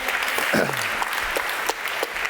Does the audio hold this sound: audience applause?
yes